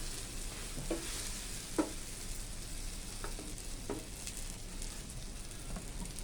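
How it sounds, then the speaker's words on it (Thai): Steady frying sizzle with occasional sharp clinks and scrapes as food is tossed in a pan, continuous and close. "นี่เป็นไงฝีมือการฝัดกระทะของยาย"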